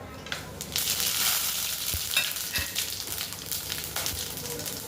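Whole spices sizzle and crackle steadily in hot oil for a chicken curry, a close, continuous frying hiss with scattered pops and a few stirring knocks, no voices.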